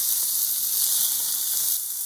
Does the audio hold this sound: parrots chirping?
no